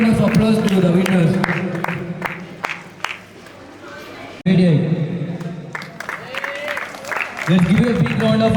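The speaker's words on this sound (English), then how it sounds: "Let's give a big round of applause to the winners." Audience applause and crowd cheering for winners at an inter-school photography contest, loud and sustained, broken by a short lull and then rising again, with a hum of chatter mixed in.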